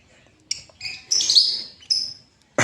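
A male lovebird gives several short, shrill chirps and a brief trill, close and loud against near silence, followed by a sharp noise at the end.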